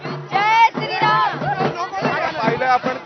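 Women party workers at a BJP office cheer and shout loudly in celebration, a burst of raised excited voices close by, rising and falling in waves across the moment.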